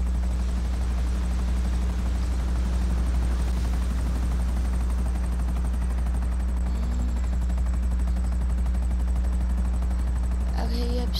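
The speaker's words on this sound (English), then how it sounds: "this helicopter doesn't have much fuel left" A helicopter flies in Grand Theft Auto V, its rotor chop and turbine whine loud and close in a constant droning pulse, with a brief rattling burst near the end.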